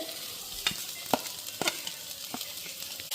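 Crushed ginger, garlic and chilli frying with onions in a pan, a soft steady sizzle broken by several sharp scrapes and taps of a spoon stirring, fairly quiet and close, no talking.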